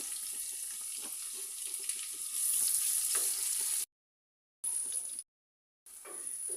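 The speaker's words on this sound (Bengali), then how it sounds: "পেঁয়াজগুলো হালকা লাল করে ভেজে নিতে হবে" Chopped onions fry in the hot oil left from frying chicken, browning lightly for a chicken curry. A steady close sizzle swells midway and then cuts out to dead silence twice before returning.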